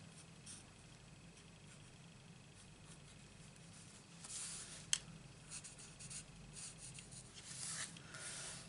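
Pens colouring a stamped floral card image make faint, close scratchy strokes on paper, in soft repeated bursts with a light tap partway through, in a quiet room.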